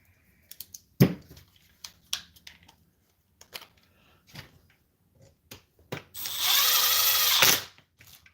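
Scattered clicks and knocks of handling tools on a workbench, then a power drill whirs steadily for about a second and a half before stopping, during work on a Kraton 6S RC car.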